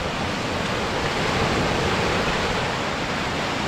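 Torrents of water rushing through the gates of the Jamrao canal headworks, built in 1889, a loud, dense, unbroken roar close at hand with no voices.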